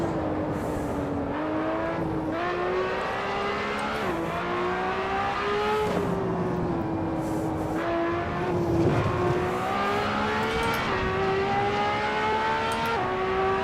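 A LaFerrari engine in the racing game Assetto Corsa at Spa-Francorchamps revs and accelerates hard through repeated gear shifts, pitch climbing then dropping at each change, loud and continuous with no talk.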